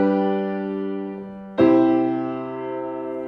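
A keyboard plays four-part triad chords in a simple I–V–I progression, bass notes in the lower register and upper voices above, each chord sustained and then struck afresh, clear and alone with no talking.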